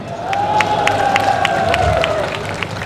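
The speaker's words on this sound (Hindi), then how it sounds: "देखिए फिल्मों में काम करने वाले लोग कितनी मजबूत से ताली बजा रहे हैं।" Applause and cheering from a large crowd of film industry workers, loud and sustained throughout without a break, with a steady whistle-like tone riding above the clapping.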